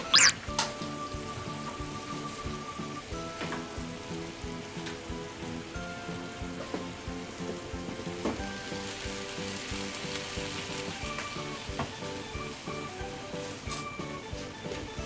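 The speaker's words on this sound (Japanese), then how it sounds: "このままね5分茹でていく、煮ていくんですけども" Pasta simmering in a frying pan in broth flavored with bonito powder, a soft, low bubbling and gentle sizzle with scattered small pops, faint and steady throughout with no voices.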